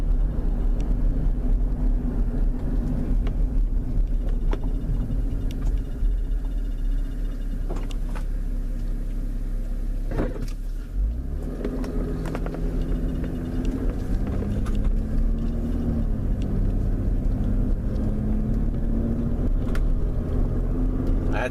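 A car's engine idles steadily in gear for a long stretch while being checked for a P0218 transmission-temperature fault, giving a constant low rumble with a faint shift in tone midway and no talk.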